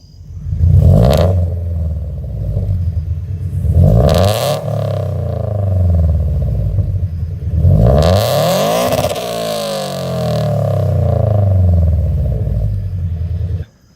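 A car fitted with a cheap $400 aftermarket exhaust revs hard in several loud, close bursts, each rising and falling, with a raspy rumble idling between them.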